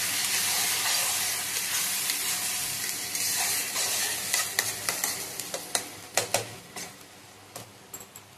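Chicken curry sautés in a pan with garam masala under a steady sizzle, and in the second half a series of close scraping stirs grows more rhythmic and pronounced. No voices.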